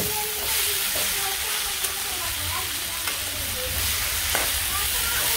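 Fish and onion sizzle and fry in a pan as they are stirred and mixed, a steady close hiss with scraping stirring strokes throughout.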